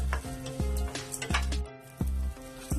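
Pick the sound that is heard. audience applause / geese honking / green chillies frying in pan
green chillies frying in pan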